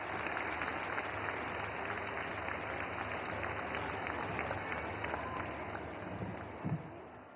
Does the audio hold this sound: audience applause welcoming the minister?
yes